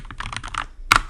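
Keys tapped on a Mac computer keyboard while a terminal command is entered, a close burst of quick clicks followed after a short pause by one sharper, louder keystroke.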